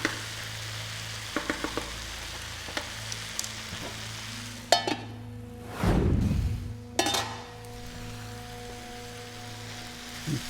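Shrimp and other seafood sizzle and fry in a pan for Korean black bean noodles, with a steady hiss, a few scattered taps, then a louder burst of stirring and scraping near the middle before the frying settles again.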